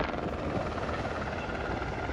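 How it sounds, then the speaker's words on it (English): Helicopter heard up close with a loud, dense, steady rotor and engine roar that holds constant for a couple of seconds with no talk. "We are going to go and investigate this helicopter."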